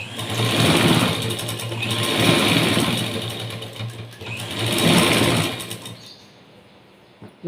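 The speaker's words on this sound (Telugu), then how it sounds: "ఇలా కట్ వర్క్ వచ్చిన దాని మీద స్టిచ్ వేసుకోవాలి." Sewing machine stitching cut-work on a blouse, its steady motor whirr running in three long bursts with brief slowdowns between, then stopping near the end; close and fairly loud, with no talk.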